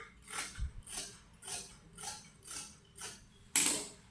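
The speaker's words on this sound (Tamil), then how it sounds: "இன்ச்சில் மார்க் பண்ணி இதை நான் வெட்டிக்கிறேன்." Scissors cut through saree fabric for a gown in a steady series of about seven crisp snips, each roughly half a second apart, close and fairly quiet.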